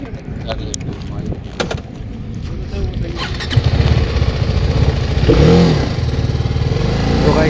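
A motorcycle engine, either a Yamaha MT-15 V2 or a TVS Apache RR 310 in sport mode on a test drive, revs and builds steadily to a louder, rising roar partway through, with someone talking over it.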